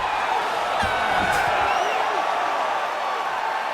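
Arena crowd cheering at a T-Mobile Arena title fight in the UFC 5 video game, a steady dense roar that holds loud and even throughout with scattered whoops rising above it.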